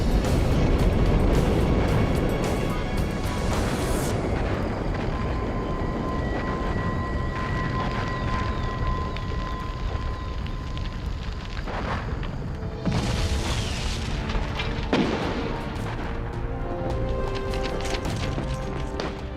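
Demolition charges explode in a World War II Pacific battle as a continuous, heavy low rumble, with one louder blast at the start and another about two-thirds of the way through.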